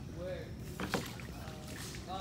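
Paddle board paddle dipping and splashing through calm mangrove water, a few soft close splashes and drips over quiet background, with a person talking around it.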